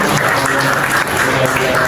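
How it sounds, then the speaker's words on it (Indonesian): Steady applause from a group of children in a classroom, hands clapping continuously without a break for a couple of seconds, fairly loud and close. "Tepuk tangan dong untuk kalian semuanya."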